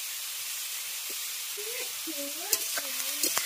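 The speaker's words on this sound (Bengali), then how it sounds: "স্বাদ মতো লবণ দিয়ে সমস্ত কিছু খুব ভালো করে মিশিয়ে নেব" Ash gourd is stirred in a pan with salt and turmeric, a soft, steady sizzle underneath, with a few scraping clicks and brief squeaky tones toward the end.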